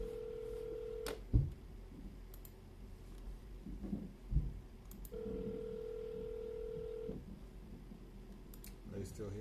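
A telephone on an outgoing call gives two long, steady ringback tones separated by a pause, with soft handling clicks and a faint murmur in the background.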